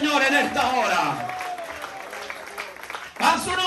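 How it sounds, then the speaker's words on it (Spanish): Congregation applauding during an evangelical church service, steady clapping filling the room with a preacher's voice speaking over it throughout. "Alguien le da un aplauso al Señor en esta hora."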